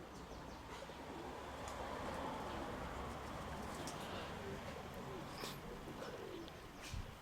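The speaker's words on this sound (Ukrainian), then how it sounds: "Не знаю, що це за голуб чи голубка." Soft pigeon cooing repeats amid a steady outdoor background hum, with faint chirps scattered through; the calls are low and muted, not far off.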